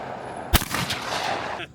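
A single shotgun blast at a clay target at Elstonville shooting range cracks out sharply and loudly, followed by a rolling outdoor echo that fades over about a second.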